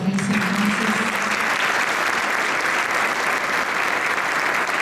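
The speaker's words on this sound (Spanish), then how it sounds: "Y le damos un fuerte aplauso a Patricia." Dense, steady applause from an audience at a diocesan educators' congress, loud and continuous throughout, with a brief voice at the very start.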